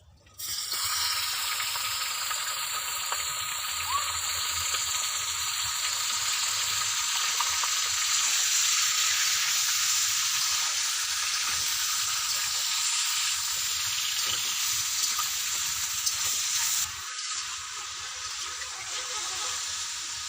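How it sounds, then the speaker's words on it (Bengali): Pieces of village-style desi chicken fry in hot oil in a karahi. A loud, steady sizzle hisses almost unbroken for about twenty seconds, easing slightly near the end. "এই তেলের মধ্যে আমি মাংসগুলো দিয়ে একটু ভেজে নেব।"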